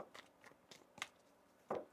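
A deck of tarot cards is shuffled in a quick series of soft, papery snaps and flicks, close and fairly quiet, with a slightly louder burst near the end.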